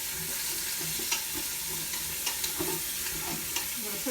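Chuck roast with carrots, onion and celery is stirred in a hot Instant Pot, a steady close sizzle broken by scattered scraping spoon clicks, with no talking.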